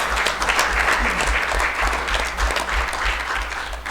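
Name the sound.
audience applauding legislators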